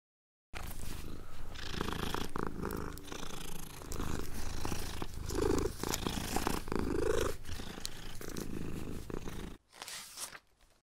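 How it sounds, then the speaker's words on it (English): A cat purrs steadily and close up, a continuous low rumbling drone with faint breathy pulses, fading out near the end. "Cat purring."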